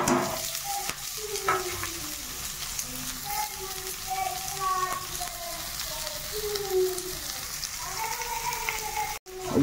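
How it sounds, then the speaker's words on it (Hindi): Onions and green chillies fry in a pan for an Odia cabbage curry, a steady close sizzle with occasional stirring scrapes, running continuously with no talk over it. "ଏବେ ପିଆଜ ଟିକେ ଭାଜିବା ସାଙ୍ଗରେ"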